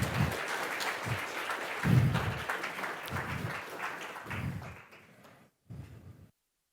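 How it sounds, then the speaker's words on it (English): An audience claps to welcome a guest speaker at a Masaryk University life sciences seminar, a fairly close, steady round of applause that thins and fades out after about five seconds, with a few heavier thuds and a brief final burst. "please now join me in welcoming Jayakrishnan Nandakumar to Masaryk University by applause"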